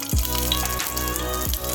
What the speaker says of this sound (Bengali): এই সব ফোড়নগুলো একটু ভালো করে ভেজে নিব